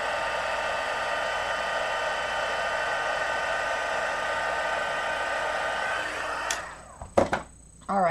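A heat embossing tool blows hot air steadily over a stamped card, a loud continuous whooshing drone that holds for about six seconds before cutting off, followed by a few brief handling clicks.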